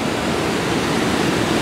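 Raging waterfall in full flood at Achray, a loud, dense, unbroken roar of heavy falling water, close and constant with no other sounds.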